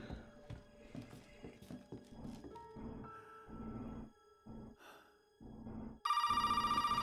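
A ringing telephone in the horror video game Resident Evil 7 starts abruptly near the end as a loud, steady electronic trill. It follows a stretch of quieter game sounds and footsteps.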